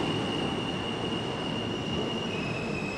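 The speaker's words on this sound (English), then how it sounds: "Another W train, or is this that Phantom Q train?" A New York City subway W train rumbles loudly and steadily, with a thin, high wheel squeal running through the noise, heard from close by on the platform with no talk.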